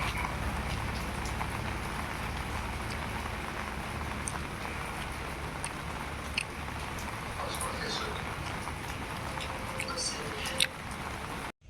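Steady rain falls in a dense, even patter of drops with occasional louder drips, continuing without pause over rainy-weather surroundings.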